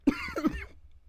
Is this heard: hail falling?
no